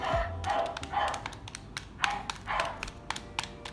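Rapid, irregular plastic clicks of calculator buttons being pressed in quick bursts, close up, with some faint background noise.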